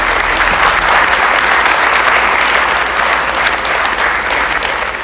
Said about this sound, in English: please join me in marking this occasion with a warm round of applause